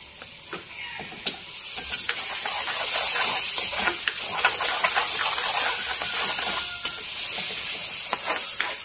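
Masala of ground coriander and turmeric stirred and frying in a pan for egg curry, a steady close sizzle with scraping clicks of the spoon throughout, no talking.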